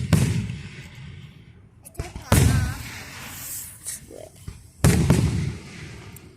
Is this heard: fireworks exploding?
yes